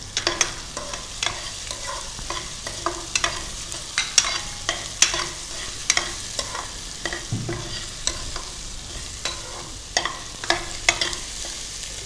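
Fifty grams of chopped onions frying in a pan with shahjeera for mutton curry, a constant close sizzle broken by frequent spoon scrapes and clinks as they are stirred, without any talking.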